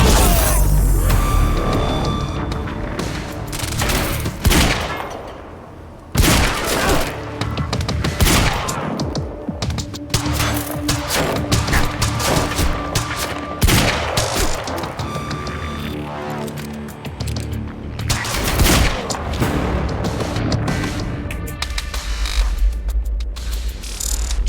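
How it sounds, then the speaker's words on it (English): Intense gunfire from the video game Quantum Break, loud overlapping bursts and rapid shots with mechanical clanks and crashes, continuous and chaotic throughout. "Who's shooting?"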